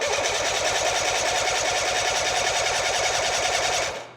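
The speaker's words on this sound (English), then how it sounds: "now that we got a working starter, I'm gonna go ahead and get some compression numbers on this outboard" Outboard boat engine turning over on its electric starter during a compression test, a loud steady rhythmic chugging whir that runs evenly for about four seconds before stopping.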